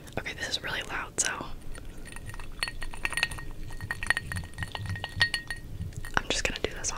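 Ice cubes clinking into a wine glass, a scatter of sharp glassy clinks and taps at close range under soft whispered talk.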